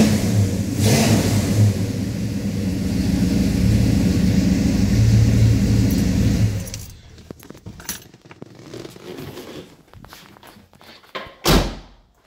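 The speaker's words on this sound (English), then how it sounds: "So that's the engine compartment cold start video for this 1970 Pontiac GTO." A 1970 Pontiac GTO engine rumbles loudly and revs after a cold start, then shuts off. Several seconds of quieter clunks, rattles and a sharp slam or knock follow, close by.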